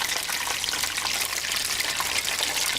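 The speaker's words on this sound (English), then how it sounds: "the snapping and popping of the grease" Squash blossoms stuffed with ricotta fry in hot grease, a dense continuous crackle and sizzle that stays loud and even throughout.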